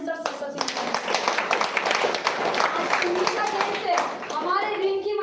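Audience at a gathering breaking into brisk, continuous hand clapping for several seconds, close and fairly loud, with a voice speaking over it near the end.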